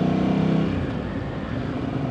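A rebuilt Ducati Hypermotard motorcycle being ridden, its engine holding a loud, steady drone that eases slightly partway through, with rushing wind and no talk.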